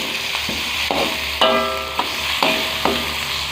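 Spicy chicken heads being stir-fried in a pan, a steady close sizzle broken by several sharp spatula scrapes and clanks at roughly regular intervals.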